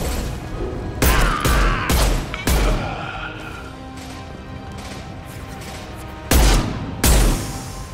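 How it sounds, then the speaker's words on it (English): Heavy impact shots in Mass Effect 2, sharp loud blasts arriving in a quick cluster of four, then a lull of combat ambience before two more booming shots near the end. "Firing an impact shot!"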